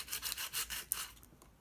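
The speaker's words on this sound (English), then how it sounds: "I'm just sanding that part that I filled with the wood filler." A short burst of hand sanding on wood filler over a painted surface gives several quick rasping back-and-forth strokes, close and soft, with no voices.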